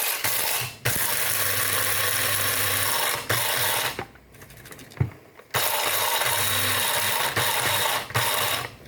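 Coffee beans being smashed up in a grinder for cold extraction while home brewing, a loud harsh rattling grind in repeated bursts with short pauses between them.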